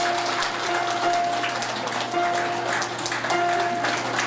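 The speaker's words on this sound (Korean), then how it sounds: "큰 박수로 환영해 주시기 바랍니다" A hall full of wedding guests applauds steadily as the groom enters, a dense, even wash of clapping lasting several seconds with faint sustained music tones underneath.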